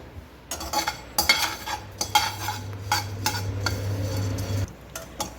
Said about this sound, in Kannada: ಈ ಥರ ಶಬ್ದ ಬರಬೇಕು ಆವಾಗ ಕಲ್ಲಂಗಡಿ ಹಣ್ಣಿನ ಬೀಜ ಆಗಿದೆ ಅಂತ